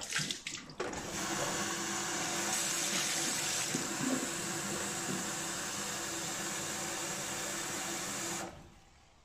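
Cold water pours steadily from a tap into the water tank of a De'Longhi Dedica 680 espresso machine during descaling, a constant close rushing splash that runs for several seconds before stopping.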